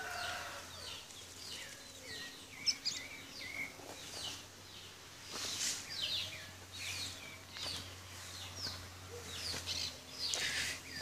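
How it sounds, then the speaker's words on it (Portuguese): Chickens cluck and call softly in a rural backyard, with faint scattered bird chirps over a quiet, low hum and no talking. "Acho essas galinhas aqui tão grandes."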